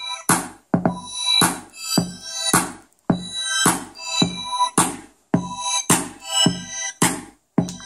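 Music plays from a Reacher portable Bluetooth speaker with FM radio, read from a micro SD card, loud and punchy with rhythmic beats and sharp cut-offs, close to the microphone, with no talking.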